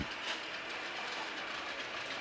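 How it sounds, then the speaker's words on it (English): A 1917 Hendey lathe turns at very slow RPM, a faint, steady mechanical whir with a soft, even clatter of gears running the whole time. "This thing is turning at very slow RPM."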